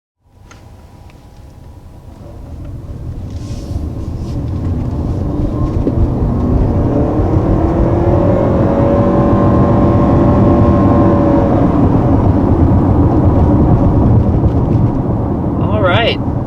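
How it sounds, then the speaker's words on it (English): A 2020 Honda CR-V Hybrid accelerating on the road, its powertrain hum swelling from quiet into a steady, rising drone with whining tones climbing in pitch, heard from inside the cabin and loud throughout. "So that's our first acceleration here in this all-new 2020 CR-V Hybrid."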